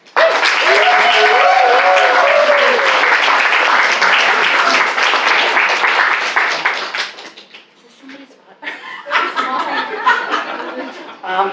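A launch-event audience bursts into sustained loud applause to welcome a guest speaker at a literary magazine's winter issue launch. A few light chuckles rise within the clapping, which fades out after about seven seconds as scattered sounds and talk take over.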